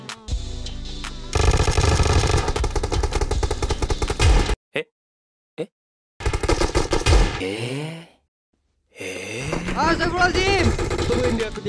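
Sustained automatic gunfire in PUBG Mobile, long dense bursts broken by brief silences, loud and close, with a voice speaking between the volleys.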